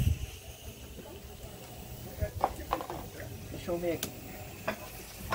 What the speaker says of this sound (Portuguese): Deixa eu fritar mais.